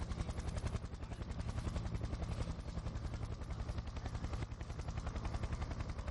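A helicopter hovering over a road cycling stage race in AlUla, Saudi Arabia, heard as a steady fast rotor chop that thuds evenly throughout, loud and close with no voices.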